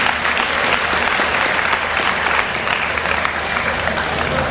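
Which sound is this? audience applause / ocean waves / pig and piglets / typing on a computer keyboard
audience applause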